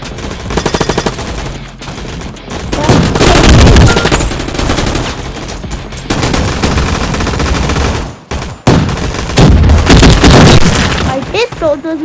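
Video game arena gunfight with loud, dense automatic gunfire and rapid bursts going almost nonstop, broken by a couple of short pauses, with a player talking over the shooting.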